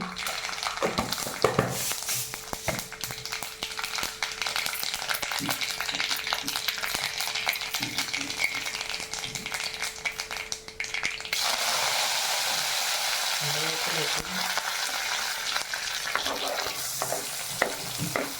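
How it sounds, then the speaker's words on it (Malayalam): Mustard seeds spluttering in hot oil for a kadai-style carrot poriyal, a long steady frying crackle with scattered pops and stirring clicks that grows louder and denser partway through, with no talking. "അതിന് ശേഷം കടുക് ഇടാൻ പോവുകയാണ്. കടുകിട്ടു."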